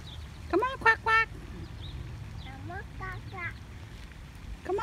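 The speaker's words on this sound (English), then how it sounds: "You see the ducks, Clementine?" Ducks quack at a pond, several short nasal calls bunched near the start and more scattered through the rest, fairly close, over faint background hum, with a person talking nearby.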